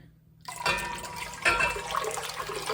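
Tap water runs and splashes into a pot being filled with a quart of water for boiling bagels, in a home kitchen; a steady close pour starts after a brief quiet moment and surges again partway through.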